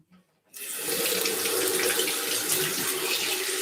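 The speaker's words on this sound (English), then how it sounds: "Okay, we're going to rinse it off in here." Water rushes from a bathroom tap for rinsing, switched on after a brief quiet moment, then a steady, close, full-bodied hiss with no speech.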